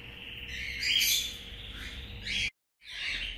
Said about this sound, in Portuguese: Essa aqui é a filhote do canário salsa